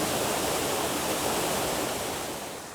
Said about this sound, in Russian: Тут некое подобие водопада.